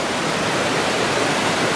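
The Magareva River in Macedonia rushes in a steady, broadband hiss of flowing water, close and constant with no voices.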